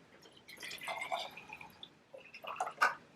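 Fall sangria pours into a cup in soft, uneven splashes and trickles, quiet and close, with a louder gurgling burst near the end.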